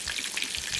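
Large black tiger prawns fry in oil in a cast iron skillet, giving a brief, steady crackling sizzle that stays close and even.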